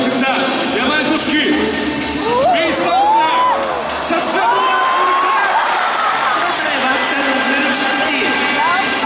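A stadium crowd cheers, whoops and applauds at the 2014 Toyota Big Air ski and snowboard event inside Sapporo Dome, a loud, sustained roar with a commentator talking over it.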